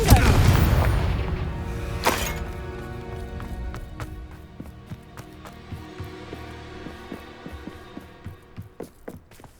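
A fiery blasting spell cast in the Hogwarts Legacy video game bursts loud and close at the start, with a second sharp boom near two seconds, followed by scattered impact thuds and crackling hits that fade toward the end.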